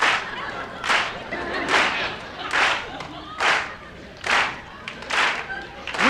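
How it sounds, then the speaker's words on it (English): Audience clapping in unison along with a comedian on stage, about eight broad, loud claps in a steady rhythm spread over several seconds, with crowd noise between them. "Everybody clap with me."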